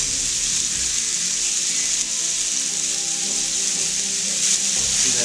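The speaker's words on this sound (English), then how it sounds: "about 2/3 pounds of chicken that I've kind of cut up into chunks. I'm going to brown that." About two-thirds of a pound of cut-up chicken chunks brown in a Dutch oven, giving a continuous, even, close sizzle and crackle with no voices.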